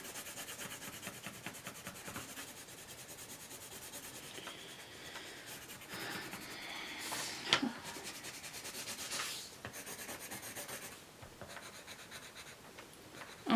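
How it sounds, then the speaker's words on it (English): A red colored pencil rubs steadily across paper in close continuous scratchy strokes, with a brief louder scrape partway through and no talking. "So I will use my red colored pencil to color the rest."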